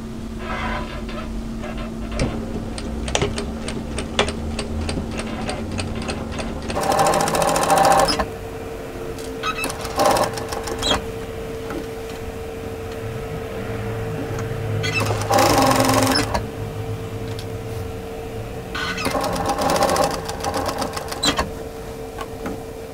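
A sewing machine stitches knit fabric close to the edge for a two-fabric tee, running in several loud rapid bursts separated by pauses with quieter handling noises between.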